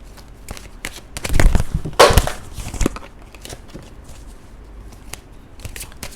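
Romance Angels oracle cards being shuffled by hand: a cluster of papery riffles and slaps in the middle of the clip, close and fairly loud, then quieter soft card rustling.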